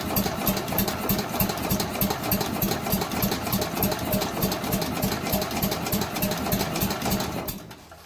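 The engine of a scrap Allis Chalmers Big Ten tractor runs close by with a steady, rhythmic chugging idle and a knocking beat, then cuts off abruptly near the end.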